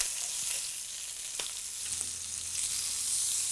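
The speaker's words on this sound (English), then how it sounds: "So the chicken's been cooking on the skin side for about 3 minutes." Chicken thighs, rubbed with Mexican spices, sizzle skin side down in a pan, a steady bright crackle of frying fat with a few brief clicks and a low hum underneath, and no one speaking.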